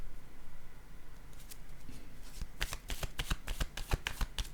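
A tarot card goes down on a table amid a quick run of crisp, close papery flicks and taps, rapid card handling that builds toward the end of a quiet passage.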